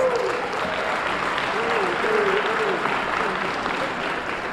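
A debate audience in Harlem applauds a 61-year-old marathon runner with steady, even crowd clapping that holds at a constant level throughout, a faint voice briefly rising above it.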